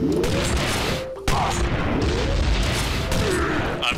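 Bombs blasting in the video game Iji, a dense run of explosive bursts and crackling impacts with a brief drop near the middle, loud and continuous under game sounds.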